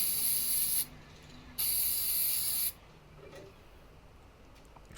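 Aerosol can spraying lacquer onto a restored '53 Les Paul guitar, two bursts of bright, loud hiss, the second longer, followed by quiet room tone.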